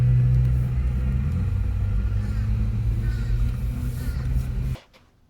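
A car idles and creeps forward through a fast-food drive-through, its low engine rumble steady and close before cutting off abruptly near the end.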